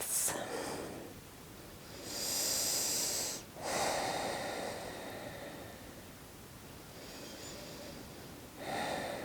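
Slow, deep breaths during a standing yoga class, with airy inhales and exhales rising and falling across the clip, close and alone.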